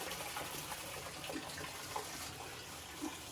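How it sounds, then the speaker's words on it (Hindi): Water pours steadily into the tub of an LG 11.5 kg semi-automatic washing machine, a constant broad rushing gush with faint splashes, close and fairly loud with no talking. "जैसा कि मैंने पानी भी स्टार्ट कर दिया था इसके थ्रू"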